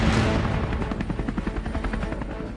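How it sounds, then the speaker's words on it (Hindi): HAL Light Combat Helicopter (LCH) in flight, heard from on board: a loud, close, continuous rotor thump with rapid rhythmic blade beats over a heavy engine roar, with no talk. "खुद ABP न्यूज की टीम इस लाइट कॉम्बैट हेलीकॉप्टर यानी LCH में है।"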